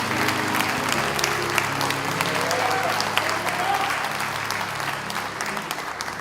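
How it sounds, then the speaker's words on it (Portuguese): A church congregation claps together in a sustained burst of applause during a worship service, with crowd voices and a low musical hum underneath, steady and fairly loud. "se você veio, aplauda para Ele direito"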